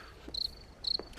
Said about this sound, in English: And who let the crickets out?